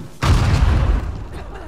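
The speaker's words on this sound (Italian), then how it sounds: "ora sappiamo cosa ha provocato le esplosioni di prima" A loud explosion booms in Uncharted 4, a single sudden blast that rumbles and decays over about a second amid game ambience.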